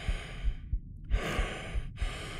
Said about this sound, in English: I'm gonna be breathing real loud for a second because I'm running to the end of the hallway.